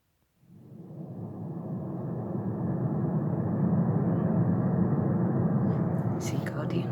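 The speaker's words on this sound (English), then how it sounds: "Aeroplanes. That's a good one." An aeroplane ambient sound loop plays from an app, a steady broadband roar rising within the first second and holding loud and constant, with faint clicks near the end.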